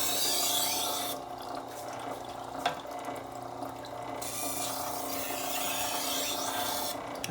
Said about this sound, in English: So now just some light passes to refine the burr and make it really slight.